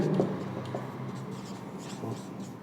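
A pen scratches steadily on paper while a figure label is written for a glass slab refraction diagram, with close, continuous rubbing strokes and no speech.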